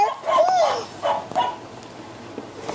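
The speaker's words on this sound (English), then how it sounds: "Puppy dog's barking." A small puppy dog gives a few high yips and short barks in quick succession, fairly close, with brief background noise between calls.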